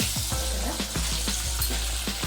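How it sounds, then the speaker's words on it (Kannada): Eggs frying in a pan with oil for egg biryani, a steady loud sizzle with a quick run of rhythmic spatula scrapes over it. "ಮೊಟ್ಟೆನ ಚೆನ್ನಾಗಿ ಫ್ರೈ ಮಾಡಾಕಿದ್ರೆ ಚೆನ್ನಾಗಿರುತ್ತೆ."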